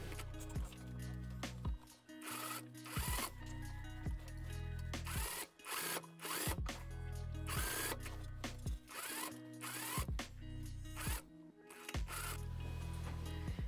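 A sewing machine stitches a seam on a summer dress in loud, rapid mechanical bursts, starting and stopping repeatedly with short pauses between runs.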